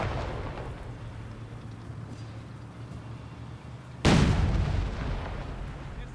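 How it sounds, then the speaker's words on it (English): Incendiary artillery bombardment in the Company of Heroes 3 strategy game, a low rumbling din that suddenly bursts into a loud, close explosion and then slowly fades. "I believe it is the incendiary bombardment."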